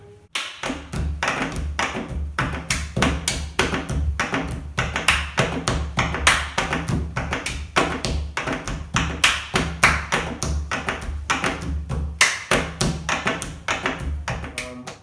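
Hands tap a steady, fast rhythmic pattern on a kitchen table top. Sharp, close knocks and thumps repeat evenly for the whole stretch with no voices.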